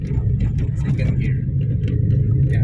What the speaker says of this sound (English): And all the way down ay accelerator ko at second gear.